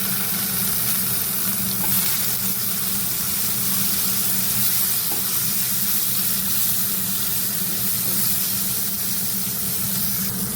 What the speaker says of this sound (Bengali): এবার একে একে দিয়ে দেবো কাঁচকলা,